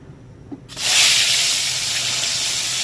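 Singri fish dropped into hot mustard oil, starting with a sudden loud hiss that settles into a steady, close sizzle lasting to the end.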